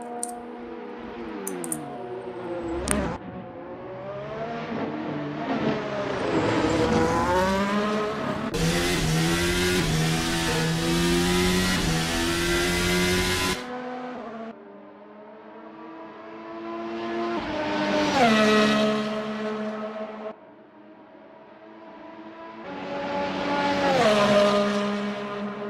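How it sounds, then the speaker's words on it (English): Formula Alfa race cars in a racing video game, engines screaming up through gears in repeated rising sweeps with sharp shifts, loud and close with no talk. "on board at the moment with Guy Swarbrick, currently using that DRS, heading down the back straight"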